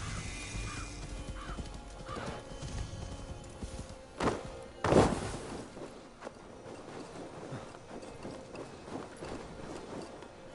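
Horse in Assassin's Creed Valhalla gives a short, high, thin neigh, pony-like, amid hoof clip-clops and footsteps, with two louder thumps in the middle of the game soundscape.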